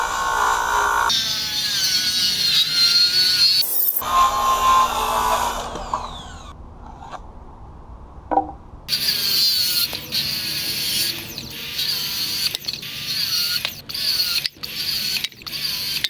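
A power saw cuts tapers into wooden 2x4 legs with a loud, close whine, spins down into a short pause with a few clunks, then starts up again and cuts on with brief dips and interruptions.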